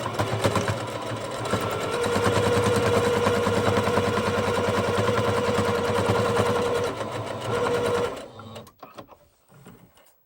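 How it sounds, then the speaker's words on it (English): A sewing machine runs a steady straight stitch along the seam of a bleached headband, a continuous close whirring hum for about eight seconds before stopping, followed by a few faint handling clicks. "this time I'll be using a straight stitch on this seam"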